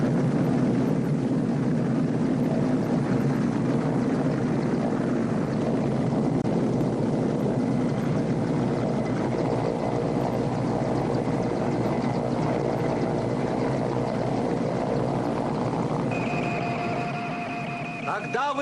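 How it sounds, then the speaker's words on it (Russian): A waiting helicopter runs steadily with a low rotor drone and broad engine roar throughout, loud and close, while people talk over it in a hot desert setting. "Нас ждет вертолет."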